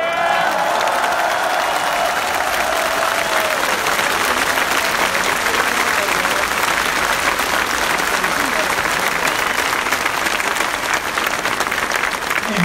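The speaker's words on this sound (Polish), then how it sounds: "jak tutaj wszyscy klaszczecie razem i rytm trzymacie" Large crowd at a rally in Poznań in defence of judicial independence clapping together in steady rhythm, dense and continuous throughout, with voices and cheering mixed in and a speaker's voice faintly over it.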